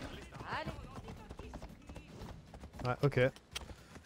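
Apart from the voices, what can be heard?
horse hooves clip-clopping, from the video game Assassin's Creed Odyssey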